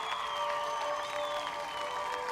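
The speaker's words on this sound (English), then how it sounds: "who receives a thunderous applause" Steady, moderately loud clapping from a crowd fills the scene in the video game Tiny Bookshop, with a sustained tonal hum underneath.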